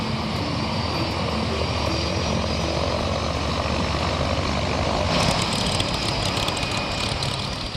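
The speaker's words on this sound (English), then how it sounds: "The Grumman Mallard is a twin turboprop design." The twin turboprop engines of a Grumman Mallard amphibious aircraft produce a steady, constant drone with a whining hum. The sound is moderately loud throughout, and the pitch rises slightly partway through.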